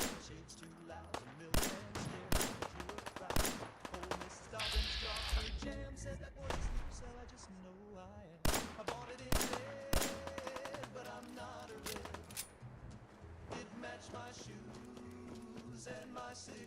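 Gunfire in the video game Fallout 4: sharp, loud shots in irregular bursts and clusters throughout, mixed with game sounds and occasional voices.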